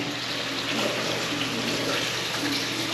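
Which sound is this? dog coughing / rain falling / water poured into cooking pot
water poured into cooking pot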